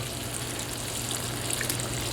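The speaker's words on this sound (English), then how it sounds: "I'm going to add in a little bit of water as well" Water is poured into simmering bolognese sauce, producing a steady, fairly loud hiss and trickle that runs unbroken for about two seconds.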